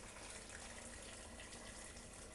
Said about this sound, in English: I'm going to top this up now with boiling water.